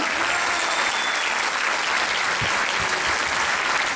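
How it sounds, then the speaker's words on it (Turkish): Steady, dense audience applause fills a Circassian association's cultural dance and music event, continuous and even throughout at moderate loudness. "Arsen Kabz'e ayrı bir alkış istiyorum"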